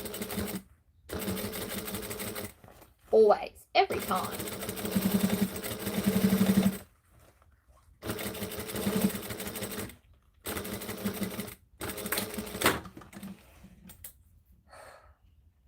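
A sewing machine top-stitches leather in several loud bursts of rapid clatter separated by short pauses, with a voice briefly speaking between runs.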